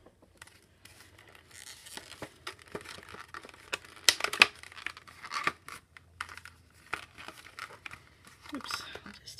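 Paper pieces from a scrapbooking kit are peeled and torn at close range: irregular crinkling, rustling and short ripping bursts, with a voice talking over part of it.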